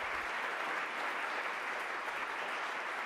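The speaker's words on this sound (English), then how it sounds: "Ladies and gentlemen, a round of applause for Jessica Hentoff." An audience applauds for Jessica Hentoff at a tribute event, a dense, even burst of clapping that holds steady throughout, with no voices over it.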